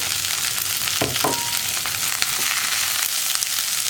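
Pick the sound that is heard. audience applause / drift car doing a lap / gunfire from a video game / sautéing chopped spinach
sautéing chopped spinach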